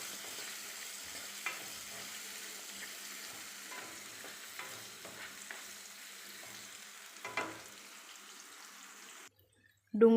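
Two finely sliced onions frying in a pan until translucent, a faint steady sizzle with a few soft stirring bumps, cut off abruptly near the end.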